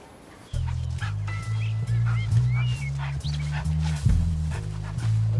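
A dog barks repeatedly in a steady series of loud, close barks, with birds chirping faintly in the background.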